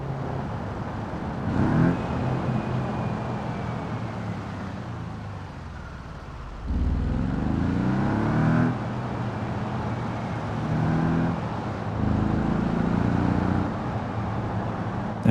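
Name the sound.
car engine accelerating in BeamNG video game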